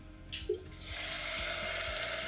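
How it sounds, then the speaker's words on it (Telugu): A couple of soft clinks, then water pours into a hot pan of fried onion and semolina with a steady, rushing hiss that continues to the end. "దీంతో రెండు కప్పుల నీళ్ళు వేసుకోవాలి"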